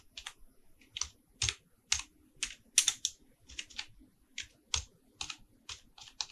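Rapid bursts of typing on a computer keyboard while filling in text fields in Microsoft Word, keys clicking in uneven clusters close to the microphone with no talking.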